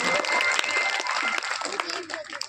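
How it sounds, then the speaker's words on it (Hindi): Audience applause for the mothers at a Hindi spiritual gathering, a dense spread of clapping from a crowd that stays steady for a couple of seconds with no distinct speech on top. "तो एक बार आप लोग माताओं की ताली जरूर बजाओ"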